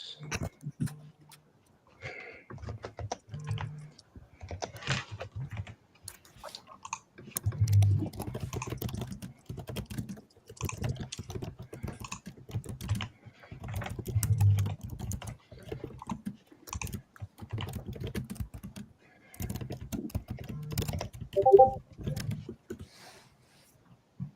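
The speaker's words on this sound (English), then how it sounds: "I don't know who's typing super fast right now" Rapid typing on a computer keyboard during a livestream, a dense stream of quick clicking keystrokes in uneven bursts with short pauses, fairly close and clear, no speech over it.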